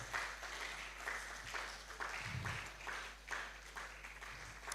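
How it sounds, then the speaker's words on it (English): Audience applause at a youth leadership conference, steady crowd clapping sustained for several seconds at a moderate, slightly distant level with no talking over it. "please let's keep the applause going until he comes"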